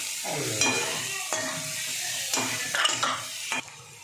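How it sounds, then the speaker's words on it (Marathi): Soaked puffed rice being sautéed in a pan: a soft, steady sizzle under several distinct scraping stirs of a spatula against the metal, close and fairly quiet, with no voices. "हे जे चुरमुरे होते भिजवून ठेवलेले ते घालून घेते त्याला चांगलं परतवून घ्यायचं"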